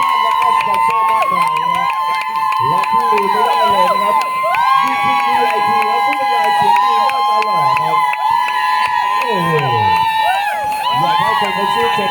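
Crowd at a basketball game cheering and shouting loudly throughout, with children's voices and whoops, while an announcer talks over the noise through a public address system.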